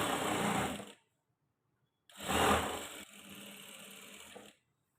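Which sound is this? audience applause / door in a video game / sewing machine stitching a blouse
sewing machine stitching a blouse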